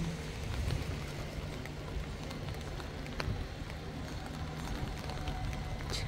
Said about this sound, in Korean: 비가 오고 있습니다. 장맛비가 흐르고 있는 호산천에 나왔습니다.